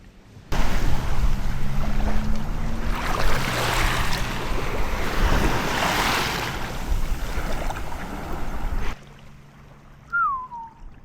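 Waves washing on an empty beach, a loud, broad rush of surf mixed with heavy wind buffeting the microphone, which cuts off abruptly near the end and leaves a faint background.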